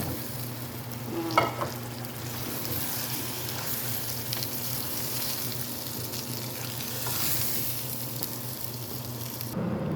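Potatoes fry in spiced oil for an egg and potato curry, with a steady close sizzle and a clattering stir early on, then even frying throughout.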